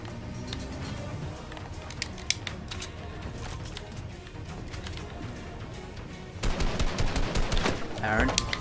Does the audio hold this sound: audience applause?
no